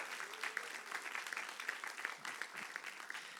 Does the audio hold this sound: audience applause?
yes